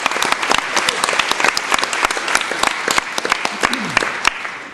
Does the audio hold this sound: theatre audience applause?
yes